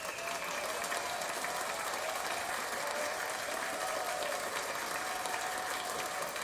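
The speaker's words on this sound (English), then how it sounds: "y'all deserve a round of applause as well" Audience applause, a steady wash of many hands clapping at a constant level, somewhat distant and diffuse, continuing unbroken for over six seconds.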